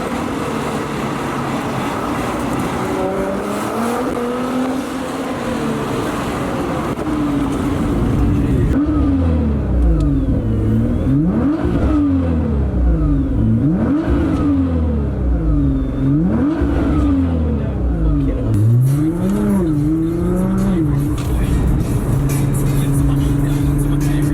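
A Nissan GT-R's engine roars loudly up close, winding up through repeated rev climbs and sharp downshifts with rising and falling pitch, each gear change leaving a brief dip before the next surge.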